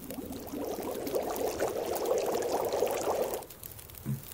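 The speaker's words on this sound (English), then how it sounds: "And I want to boil 2 litres of snow" Snow boiling into water in the video game The Long Dark, a steady liquid pouring and bubbling wash for about three seconds that then cuts off, heard alone with no talk.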